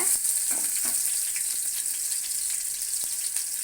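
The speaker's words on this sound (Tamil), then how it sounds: "இந்த வெள்ளைப்பூண்டு தக்காளியிலெல்லாம் வந்து இந்த பச்சை வாடை போகிற அளவுக்கு வந்து கிளறி விட்டுருங்க" Garlic and tomatoes fry in a pan for mint chutney under a steady, loud sizzle, broken by soft scraping strokes as they are stirred.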